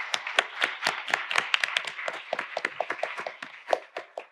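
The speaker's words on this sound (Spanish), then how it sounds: "sí que voy a pedir un aplauso para ella" A small audience at a university seminar gives a brief round of applause, with individual hand claps that stay sharp and distinct and come in an uneven quick rhythm rather than a dense roar, fairly close and unaccompanied by voices.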